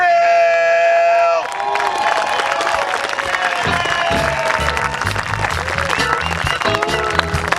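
Outdoor comedy crowd in a park applauding and cheering as a comedian takes the stage, a dense steady wash of clapping with scattered whoops after a brief tonal opening.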